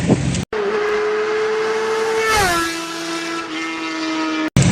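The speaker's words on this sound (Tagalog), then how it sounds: "maingay kapag inikot yung gulong" A Yamaha Mio Gravis scooter's rear wheel spins with a loud whining, droning hum despite a replaced torque drive bearing, dipping in pitch partway through, cut by two brief silences.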